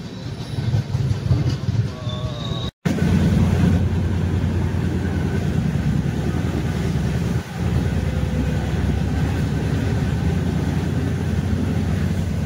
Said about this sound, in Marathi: झेलम एक्सप्रेस ट्रेन आता आली.